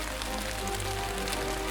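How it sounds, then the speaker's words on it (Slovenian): Heavy raindrops fall through an opened window in a bedtime story, a steady close patter and hiss with a low hum underneath and no voices. "Zaslišim šumenje. Odpreva okno in na najine dlani se vsujejo debele dežne kaplje."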